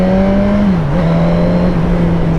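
Suzuki GSX-S1000F sport motorcycle pulling away in first gear, a steady loud engine drone with a brief dip in pitch mid-way, then holding a constant tone, close by with no talk.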